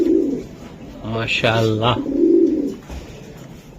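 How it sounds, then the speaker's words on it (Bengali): Racing pigeon cooing close by in a series of soft, throaty coos, with a voice speaking around the calls. "এই যে একটা কবুতর দেখেন ভাই"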